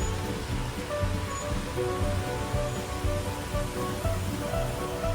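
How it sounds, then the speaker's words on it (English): Rain falls steadily in Singapore, a dense, even hiss of close drops that holds without a break, with no voices. "It's raining again."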